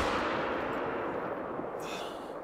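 A .243 rifle shot at 400 meters in theHunter: Call of the Wild, a loud, broad blast whose rumbling echo decays across the whole clip before a faint high whoosh near the end.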